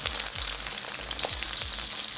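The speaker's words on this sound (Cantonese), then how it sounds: "First, my dad places the side with a thicker skin face down into the wok because it's flat and easier to pan fry." Chicken wings pan-frying in oil in a wok, a steady, close sizzling hiss with soft crackles and pops throughout, with no voices.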